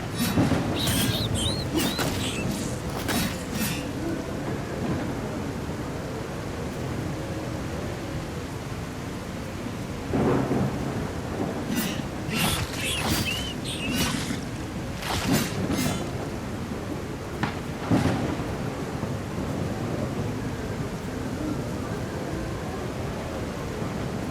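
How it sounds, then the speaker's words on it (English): Thunderstorm with heavy rain, a steady broadband hiss of downpour throughout with several bursts of crackling thunder and sharp cracks, fairly loud and close, no voices. "Oh, and it's storming."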